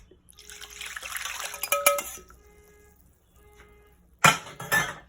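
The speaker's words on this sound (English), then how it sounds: "I'm going to add my liquid into the bowl." Liquid pours into a mixing bowl for croissant dough in a kitchen, with a short trickling splash, then light clinks of dishes and a louder burst of pouring near the end.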